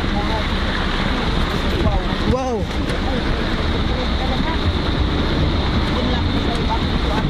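A vehicle crosses through river water, a steady rushing churn of water and wind noise that persists throughout, with a person briefly exclaiming over it.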